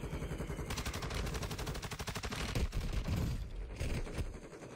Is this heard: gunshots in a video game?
yes